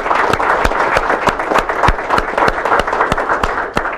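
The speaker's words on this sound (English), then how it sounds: "Round of applause for them as they celebrate." A small gathering claps at the Dunkirk announcement of the Great Lakes Off Shore Grand Prix, with a few close, sharp individual claps standing out over a thinner crowd of applause, loud and steady throughout.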